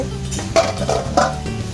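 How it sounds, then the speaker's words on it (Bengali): Food frying in a pan on a stove during cooking for a family meal, with close scraping and clinking as it is stirred in a few uneven strokes over a low sizzle. "রান্না বসিয়ে দিয়েছে, ভাজছে"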